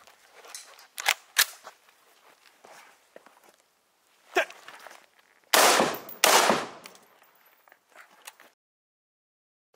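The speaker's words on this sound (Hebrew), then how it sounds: "אנחנו רוצים לנסות הפעם שתי יריות של תחמושת ירוקה, לראות איך הלוח מגיב" Two loud, close gunshots of green-tip ammunition fired at a body armor plate, sharp back-to-back cracks near the middle, with scattered softer handling knocks and movement sounds around them.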